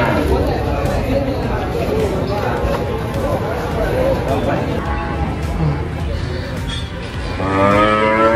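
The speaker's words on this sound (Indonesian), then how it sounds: "Di sini berbagai jenis sapi kebanyakan yang datang pada hari ini." Cattle, including Limousin, Simmental, Bali and Banteng breeds, moo loudly at a packed livestock market before Eid al-Adha, with repeated calls over a dense crowd hubbub and people chattering nearby.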